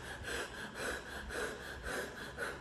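A voice imitates breathless panting, rhythmic heavy breaths repeating about every half second, close and faint.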